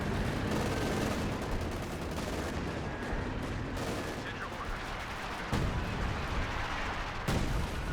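Artillery barrage in Company of Heroes, a dense, loud wash of gunfire and shell impacts with a couple of sharper blasts standing out, a voice talking underneath.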